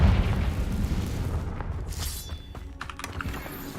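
Confringo fire spell explosion in the Hogwarts Legacy video game, a loud rumbling boom that opens strong and decays into crackling debris, with sharp pops and clicks near the end.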